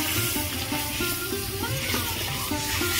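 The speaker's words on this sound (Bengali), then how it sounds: "এবার আমি জল ঢেলে দেব।" Water is poured into a hot pan of stirred spices while cooking kochu shak ghonto, producing a dense, continuous hiss and sizzle close by that stays fairly even throughout, with no voices.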